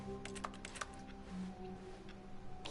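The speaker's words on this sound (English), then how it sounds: "I'm pressing X. And it's making a keyboard noise." Computer keyboard keys clicking in The Stanley Parable, a scattered run of light taps and clacks at low level over a steady electronic hum.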